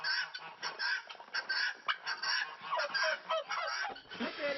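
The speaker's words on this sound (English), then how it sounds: "I have 4 guinea hens, and I can't tell them apart" Guinea hens call in a run of harsh, repeated honking cries, loud and close with short gaps between bursts.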